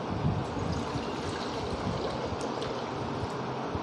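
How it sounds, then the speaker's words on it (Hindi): Water, 600 ml, pouring steadily into a mixing container while preparing a fabric stain remover, a continuous broadband splashing rush at close range without pause. "सबसे पहले 600 ml पानी हमने इसमें लेना है"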